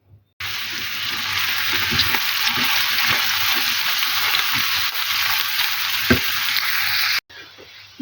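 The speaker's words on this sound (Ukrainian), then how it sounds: "найперше буду смажити на олії моркву" Grated carrots sizzle in hot oil in a pan, a loud, steady frying hiss with occasional stirring scrapes, cutting off abruptly near the end.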